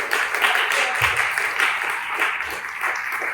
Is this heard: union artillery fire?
no